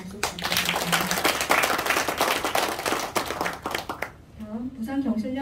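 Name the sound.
audience applause at a ceremony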